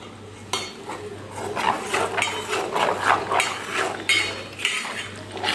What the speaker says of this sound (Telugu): ఇలా మధ్య మధ్యలో కలుపుకుంటూ కాంచుకోవాలండి.